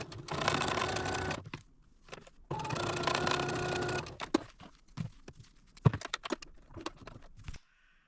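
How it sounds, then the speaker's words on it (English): A sewing machine runs in two steady bursts stitching seams on a beginner sampler quilt block, followed by softer handling clicks and rustles, close and quiet with no talk. "let's take this over to the machine and sew these 2 seams"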